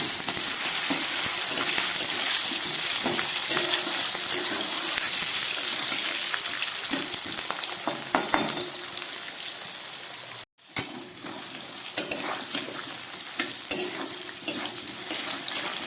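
Capsicum and potatoes sizzle steadily in hot oil in a pan, with occasional scraping and stirring sounds and a brief dropout midway.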